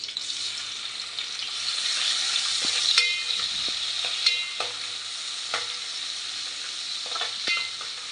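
Tomato and onion frying in a pan with popped mustard seeds for a Malvani mackerel curry, a steady sizzle under repeated stirring scrapes and clinks of the spoon, close and fairly loud with no talk.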